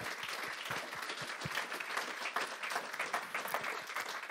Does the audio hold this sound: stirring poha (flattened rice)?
no